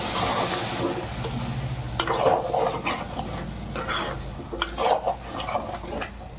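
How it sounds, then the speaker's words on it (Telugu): Gongura prawn curry is stirred in a pan after cooked gongura leaves are added, giving soft, wet scraping and clinks of a utensil over a faint sizzle. "ఇప్పుడు ఇది మంచిగా మిక్సీ కలిపేసుకోవాలి."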